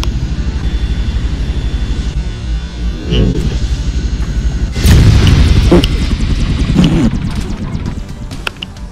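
A helicopter in the military game Arma 3 makes a loud, steady, pulsing engine and rotor drone, with a heavy thud partway through and rough impact noise after it.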